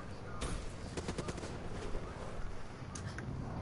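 Gunfire in a shooter video game, scattered sharp shots and short bursts crackling over a dense, noisy battle background, with talk mixed in.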